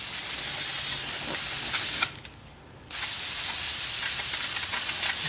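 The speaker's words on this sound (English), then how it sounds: "Now I'm going to clean that caliper a little bit." Brake cleaner sprayed onto a Ford Fusion front brake caliper, two loud, close bursts of hissing aerosol spray split by a brief pause of under a second.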